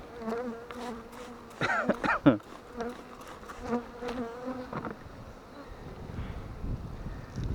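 Honey bees buzz around an open hive during oxalic acid mite treatment. Several close insects drone and whine in shifting pitches, with a louder pass near the middle of the sound.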